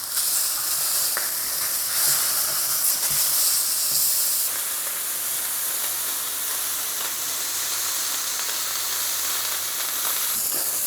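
Pork chops sizzle in a frying pan after browning on both sides, a steady, dense crackling hiss that holds close and loud for the whole stretch, with no voices.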